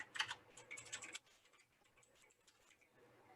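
Quick burst of close, crisp computer keyboard typing for about a second, then faint scattered key taps in a quiet room.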